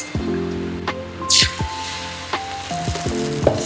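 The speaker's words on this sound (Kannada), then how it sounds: "ಸೌತೆಕಾಯಿ ದೋಸೆ ಹಾಕ್ತಾ ಇದಾರೆ." Cucumber dosa batter sizzling on a hot pan, a continuous soft frying hiss with a sudden louder sputter partway through, plus faint tonal beeps and clatter in the kitchen around it.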